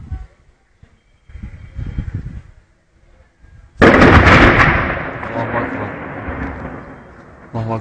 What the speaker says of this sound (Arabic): قصف عنيف تتعرض له المدينة اليوم